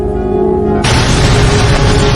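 An onboard bomb detonates inside a Philippine Airlines Boeing 747-283B airliner, a sudden loud broadband blast that erupts after a steady cabin hum and holds as a sustained roaring rush.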